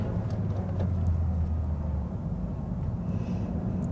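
Engine of a learner driver's car revving up as it pulls out from a junction during a mock driving test, a steady close low rumble that holds strong for two seconds and then eases into a lighter drone.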